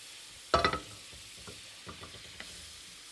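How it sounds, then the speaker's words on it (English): Butter melts and sizzles in a nonstick skillet over medium heat, starting with a sharp burst of hissing that settles into a quieter, crackling fry with scattered pops and no talking. "I'm going to start by melting some butter. I'm using just a nonstick skillet. Get that butter going."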